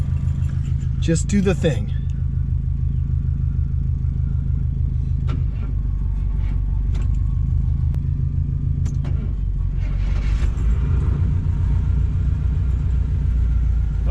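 A Cutlass Supreme with a freshly rebuilt Rochester carburetor cranks and catches, settling into a steady low rumbling idle close by, while someone talks briefly over the engine.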